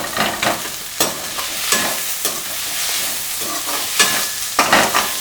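Thuduvalai leaves are sautéed and stirred in a hot pan while making thuvaiyal, giving a steady sizzle broken by sharp scraping strokes of a spoon roughly every second, close and alone.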